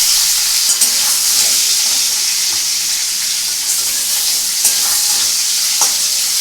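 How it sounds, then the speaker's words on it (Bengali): Snakehead and catfish pieces fry in hot oil, giving a loud, steady sizzle with a few soft stirring clicks and pops, and no voices. "মাগুর, শোল, এগুলো ভাজা কিন্তু খুব একটা প্রবলেম হয় না।"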